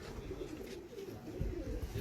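A pigeon coos softly on a rooftop, low rounded calls repeating over faint outdoor background noise, fairly close but not loud.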